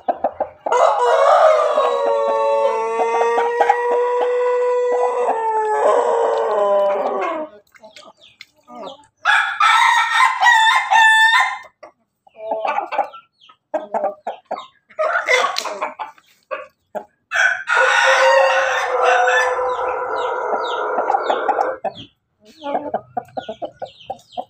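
Several loud, close crows from a young Satria Sinekti rooster about eight months old, long drawn-out calls separated by pauses, with some clucking between them.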